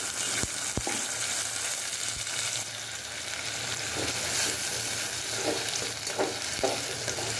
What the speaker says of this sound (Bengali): মশলা আমি দুই তিন মিনিট একটু ভেজে নিব